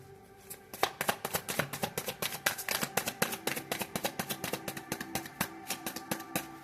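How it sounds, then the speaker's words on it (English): A fairly new deck of cards, its cards still sticking, is shuffled in rapid close riffles and snaps, a dense run of crisp clicks lasting several seconds with no talking. "Let me shuffle the cards. My deck is still kind of new, so my cards are sticking."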